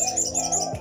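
A black cucak keling, a starling, chirps outside a house, giving quick high tweets repeated rapidly over a steady background hum, close and clear for under a second.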